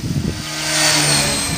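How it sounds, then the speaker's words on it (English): A Gaui X5 RC helicopter in flight gives off a loud, steady whooshing roar as it cuts through a gust of wind, rising slightly and holding through the moment. "there was some really strange wind deflection sounds coming from the helicopter"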